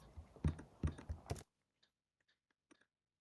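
Quick typing on a computer keyboard, a short burst of soft, close key clicks that stops abruptly, followed by near silence broken by a few faint taps.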